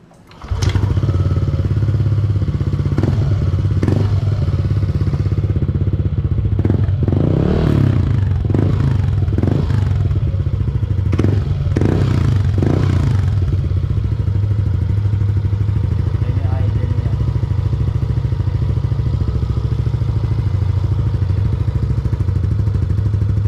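Yamaha Aerox 155 scooter idling with a JVT V3 adjustable exhaust pipe set fully open, a steady, loud, deep rumbling drone close by, with a few brief revs and clattering bursts near the start before settling into an even idle.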